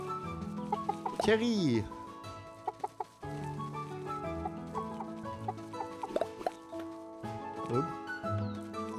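Chickens clucking in the farming game Staxel, several short clucks scattered over steady background music, with a voice speaking briefly.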